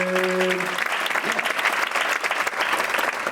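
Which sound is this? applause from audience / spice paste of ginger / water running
applause from audience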